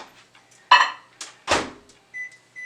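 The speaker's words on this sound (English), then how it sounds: "So we're going to put it in the microwave for like 30 seconds." A microwave oven used to melt butter for pancakes gives a few sharp clunks and knocks of its door and buttons, separated by quiet gaps, then short electronic beeps at the end, all close by.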